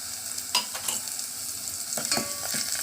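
Spoon stirring asafoetida powder into green chili and onion frying in oil, a steady sizzle with a few sharp scraping strokes near the start and end.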